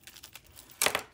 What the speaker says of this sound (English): I'm just gonna cut the plastic